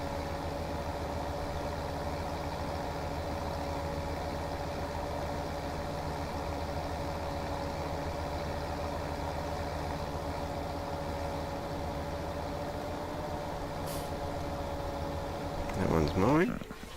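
A tractor engine idling in Farming Simulator 17, a steady low droning hum with an even tonal whine holding for most of the stretch, a brief revving swell near the end.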